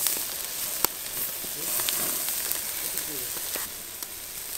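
Chicken sizzles over a strong open BBQ fire outdoors on a cold winter day as oil is brushed on, a close, continuous crackling hiss with a few sharp pops.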